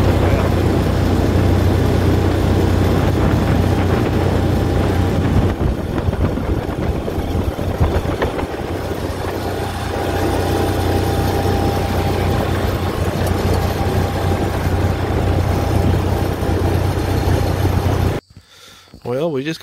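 A Kawasaki Mule SX XC 4x4 utility vehicle engine runs loud and steady at idle close by for most of the stretch, then cuts off abruptly near the end, with people talking over the rumble.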